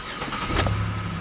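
A 2007 Chevrolet Impala, a former state department car with 100,000 miles, starting up: a brief crank and catch that settles into a low steady idle, close by.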